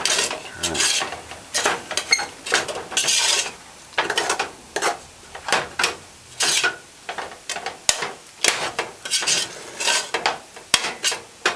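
Cornmeal being turned in a pot over low heat, a steady series of scraping, rasping strokes repeating roughly every half second, close and fairly loud with no voices.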